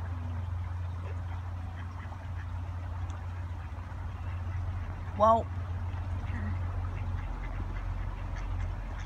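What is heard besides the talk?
ducks quacking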